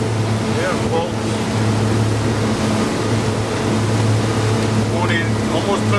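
A 2002 Sea Ray 320 Sundancer motorboat runs at speed with a steady, loud engine drone and water rush that carries unbroken through the whole stretch, while people talk over it.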